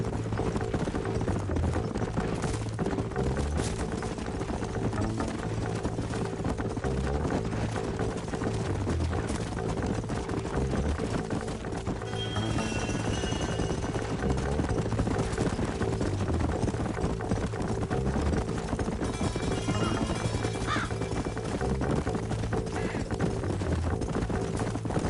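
Horses' hooves clip-clop steadily through a long stretch of Red Dead Redemption riding, a continuous close rhythmic trot under a music-like bed, with an occasional whinny and no speech.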